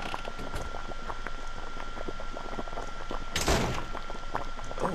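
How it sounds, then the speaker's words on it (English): A door in The Witch's House game opens with a short broadband thunk partway through, set against a continuous bubbling, boiling backdrop. "Now it's open door."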